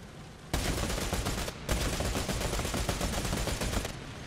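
Tank smoke grenade launchers in War Thunder fire a long rapid salvo, a dense stream of sharp reports broken by one brief pause before the barrage resumes and cuts off.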